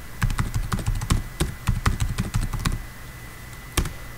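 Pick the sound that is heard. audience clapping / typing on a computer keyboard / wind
typing on a computer keyboard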